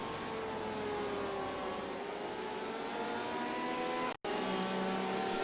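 Race cars in a sim racing game at Silverstone during an online endurance race, a steady loud multi-car engine drone with shifting pitch as cars run close together, briefly cutting out before resuming.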